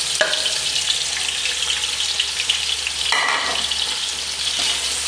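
Onions frying in about one and a half pav of hot oil for an egg and green peas masala, a steady, loud, dense sizzle running throughout, with a brief surge of crackle partway through and no talking.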